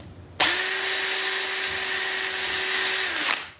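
A handheld power drill bores mounting holes while building a DIY motor mount for a river tube: a steady, loud, high-pitched whine that starts abruptly, holds at constant speed for about three seconds, then winds down.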